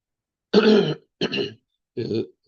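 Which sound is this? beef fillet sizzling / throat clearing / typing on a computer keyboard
throat clearing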